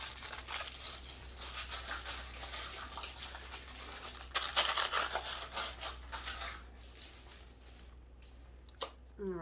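Scissors cut the top off a plastic container at an angle, giving a series of close crinkling snips and rustles with irregular crunchy bursts, fairly quiet overall.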